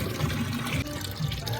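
Spring water runs from a tap into a container at a village water point, a steady splashing trickle with low gurgling, close by, as someone talks over it.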